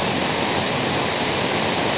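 Water rushes through a chilled water pipe being flushed in an air-conditioning system, a dense, continuous broadband hiss and roar that stays loud and unchanging throughout, with no talk.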